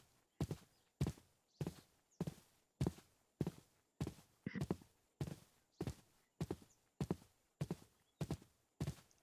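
Hooves of a slow horse in Minecraft clip-clop in a steady, evenly paced rhythm of about two hoofbeats per second, each a sharp double knock, close and clear with no talk over them.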